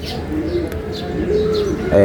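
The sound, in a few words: pigeons cooing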